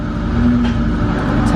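A drift car fitted with a dual caliper hydraulic handbrake idles and drives with a steady, loud, close engine drone inside the cabin.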